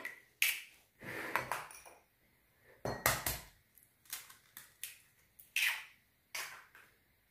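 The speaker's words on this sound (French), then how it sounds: "Je vais commencer à casser les œufs" Eggs cracked one after another against a bowl while making pizza batter, sharp clinking taps and clicks spaced out with quiet gaps between them, close and fairly faint.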